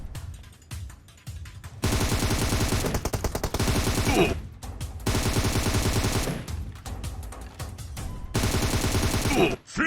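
Rapid automatic gunfire in PUBG Mobile comes as long, loud, close bursts that rattle on for a couple of seconds each, with short gaps between them and scattered single shots in the pauses.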